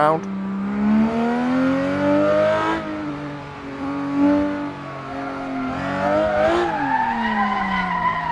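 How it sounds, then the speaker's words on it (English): Car floored and spun round on a track during a friendly race, engine revving in a rising, falling whine with tire squeal and skidding throughout, loud and close, with voices talking over it. "Just likes to floor it and spin round."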